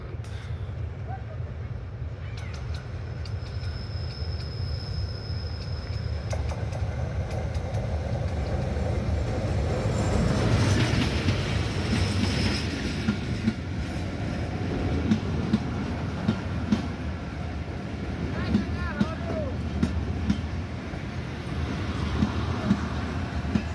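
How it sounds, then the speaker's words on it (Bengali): A commuter train arrives at and passes through Bakunda railway station, a steady rolling rumble that swells past the midpoint, with clacking wheel impacts and a brief whistle-like tone early on. "যে ট্রেনটি গেল সেটি হচ্ছে একটি কমিউটার ট্রেন"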